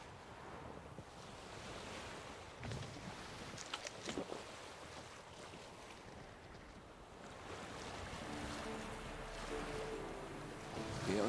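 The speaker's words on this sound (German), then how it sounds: "Geh aus dem Wind, das Segel flattert." Wind gusts and water wash around a sailing boat in The Witcher 3, with a sail flapping in the breeze. The noise is broad and steady, with a few sharper fluttering bursts near the start and a swell toward the end.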